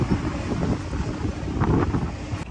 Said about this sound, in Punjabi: ਹਵਾ ਚੱਲ ਰਹੀ ਹੈ ਬਹੁਤ ਤੇਜ਼